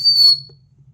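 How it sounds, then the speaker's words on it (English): Thin, high whistle of air blown through an automotive evap canister purge valve, one short steady tone lasting about a third of a second, close and fairly loud, then fading out over a low hum. "okay, that's a good sound, whistle."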